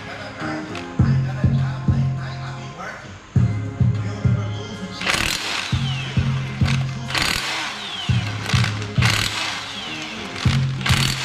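Tools working on an engine while a Honda F23 flex plate is unbolted during a swap into a CB7 Accord, with repeated short mechanical rattling bursts like an impact gun, loud and close, with some hissing noise.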